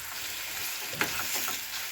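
Chopped medium tomato is stirred in a pan with already-fried ginger paste, giving a steady sizzle with a few scraping stir sounds near the middle, close and without talking.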